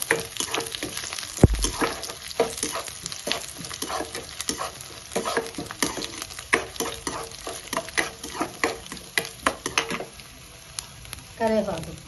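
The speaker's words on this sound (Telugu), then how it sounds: "పోపు వేగిపోయిందండి." Tempering spices and dry red chillies fry in a few spoons of oil with garlic, giving a steady crackling sizzle with sharp pops and stirring scrapes throughout, close and fairly loud.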